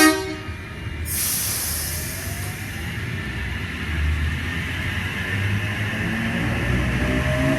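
A train departs a station with a broad, steady rumble that slowly builds as it pulls away, after a brief high tone at the start; no voices.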